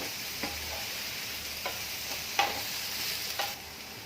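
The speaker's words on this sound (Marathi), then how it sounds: "तूप आता गरम झालेलं आहे आणि सोयाबीन मॅरिनेशनला ठेवून दहा ते पंधरा मिनटं झालेली आहेत सोयाबीन परतून घ्यायचे आहेत" Marinated soybean chunks fry in hot ghee, giving a steady sizzle with a few sharp clinks of a spatula against the pan spaced through it.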